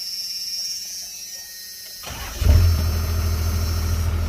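A first-generation Cummins diesel truck engine cranks and fires at close range, the start-up surge settling into a loud, steady low rumble at idle after a quieter stretch of background hum.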